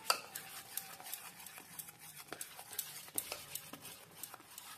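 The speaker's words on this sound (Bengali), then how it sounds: "ভালো করে আমি এবার ফেটিয়ে নেব।" Batter for dal pakora being whisked by hand, a quick, faint, irregular tapping and clicking of utensil against bowl, close by.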